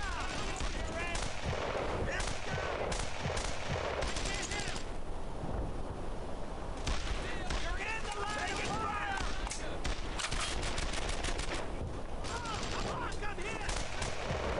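Continuous battlefield gunfire in the World War II video game Brothers in Arms: Earned in Blood. Rifle and machine-gun shots overlap densely, with shouting voices mixed in throughout.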